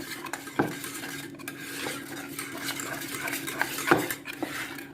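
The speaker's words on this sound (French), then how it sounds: "On va bien mélanger jusqu'à que le chocolat fond complètement dans la crème" A utensil stirs chocolate into warm cream, with soft scraping and a couple of sharp clinks against the pot, close and fairly quiet.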